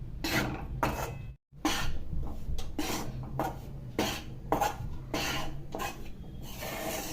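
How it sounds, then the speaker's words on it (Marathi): Wheat flour being stirred and roasted in a thick-bottomed pan, rhythmic scraping strokes of a spoon against the metal, repeated about a dozen times with a brief pause, close and fairly quiet. "परतून परतून असं हलवीत राहायचं सारखं सारखं"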